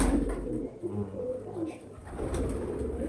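Pigeons coo in a loft, with several low, throaty coos rising and falling close by over a few seconds, no talk.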